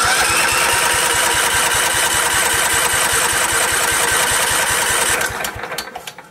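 A riding lawnmower engine cranks over with a steady, rapid rhythmic chugging for about five seconds, loud and close, then stops, leaving a brief mechanical clatter as it winds down.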